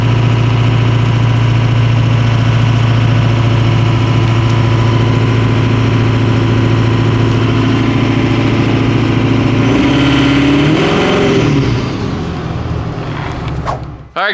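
A Ford 6.0 Powerstroke diesel truck limps along with a transmission problem, its loud, close engine drone holding steady before the pitch shifts and the sound winds down toward the end.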